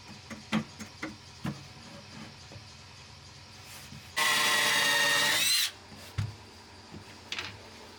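Power tool cutting aluminium profiles in a woodworking shop, one loud, close, sustained whine lasting about a second and a half, with scattered knocks and clatter of handling before and after.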